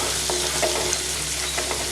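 Cumin and ginger garlic paste being stirred while it fries, a close, steady sizzle with light scraping strokes from the stirring.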